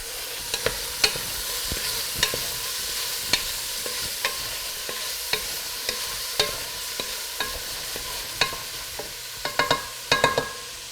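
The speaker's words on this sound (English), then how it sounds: "so that's been frying for a few minutes now" Green curry paste with yellow and red peppers frying in a pan, a steady sizzle under a run of irregular sharp clicks and scrapes from stirring, with a quick cluster of clatters near the end.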